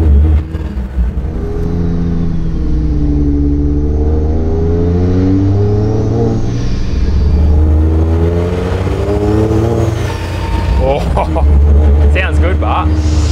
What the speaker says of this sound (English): just load up the engine, bed those rings in. Don't want to rev a lot, just keep it in a low gear.